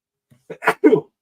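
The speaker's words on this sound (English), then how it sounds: "There's that sneeze I've been waiting for." A short, sharp sneeze with a quick inhale before it, close and alone in a quiet space.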